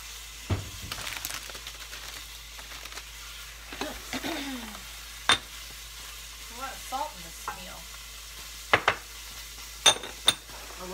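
Beef frying in a pan with salt and pepper, a soft steady sizzle punctuated by occasional stirring scrapes and clinks of utensils against the pan.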